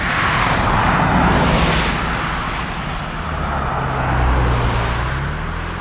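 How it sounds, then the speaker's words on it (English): A car drives past a graveyard campsite, a broad rumbling road noise that swells, eases, then builds again, steady and fairly loud with no talking. "A car just passed by"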